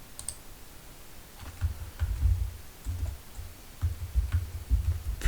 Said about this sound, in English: type it here